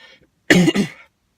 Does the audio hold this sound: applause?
no